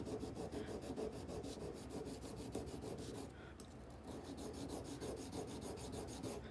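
An engraving tool being honed on a sharpening stone: a steady, continuous rasping rub in rapid back-and-forth strokes, close and even in level, with a brief dip partway through and no talking.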